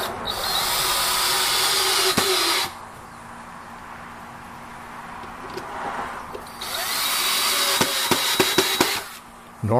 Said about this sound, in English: Normally this drill tightens that up really good